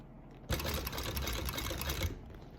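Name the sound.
sewing machine stitching a bucket bag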